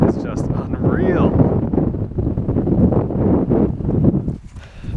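Strong wind buffets the microphone in rough, roaring gusts at an open campsite, with a person talking underneath the blustery rumble.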